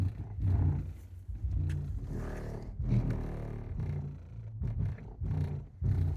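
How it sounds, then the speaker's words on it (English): Loud bass from an Alpine Status subwoofer mounted infinite baffle in a car with the boot open, booming in deep pulsing bursts while trim and panels rattle along. "the boot is open. Everything is rattling"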